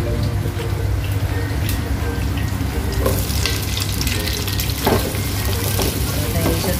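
Steak frying in a pan in Dubai, a steady broadband sizzle and crackle that carries on without a break and stays fairly loud throughout, with occasional stirring clinks and a low rumbling hum running underneath.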